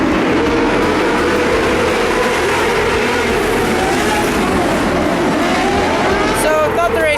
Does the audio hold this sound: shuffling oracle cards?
no